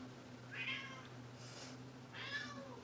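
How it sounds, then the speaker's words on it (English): A pet cat meows outside a room, two clear muffled meows about two seconds apart, faint and alone over a low steady hum. "here's the little buddy who was, meowing outside as though we were making him suffer"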